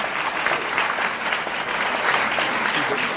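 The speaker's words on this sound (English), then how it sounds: "Let's give them another round of applause" Sustained applause from an audience at a tolerance fair, steady and fairly loud clapping throughout with no pause.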